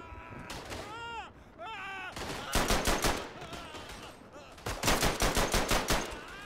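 Madsen machine gun firing in the First World War shooter Verdun, two loud rhythmic bursts of rapid shots separated by quieter moments with whistling, sweeping effects, and a voice talking between them.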